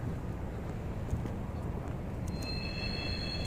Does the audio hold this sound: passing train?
yes